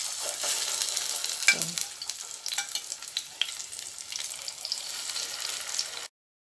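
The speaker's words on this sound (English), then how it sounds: "So it's gonna be on a low heat because we don't want the plantain to get too brown first time around, because we just want it to be cooked." Green plantain pieces fry in oil in a pot over low heat, giving a steady close sizzle with a few stirring scrapes, alone and without talk until the sound cuts off near the end.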